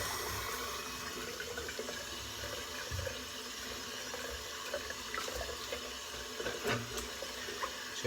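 Hot water runs steadily from a tap into a shaving bowl, a continuous close rushing and splashing that holds an even level throughout with no talk over it.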